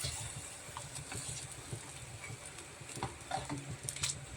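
Pork tongue with a little sugar is stirred in a pan, giving faint, quiet scraping and soft sizzling with irregular light clinks.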